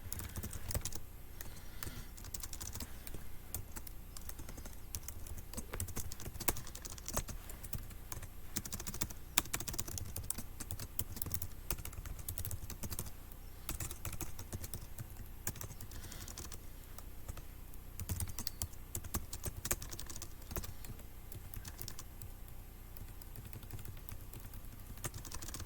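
Steady computer keyboard typing, close and continuous with dense clicking keystrokes throughout and no talking.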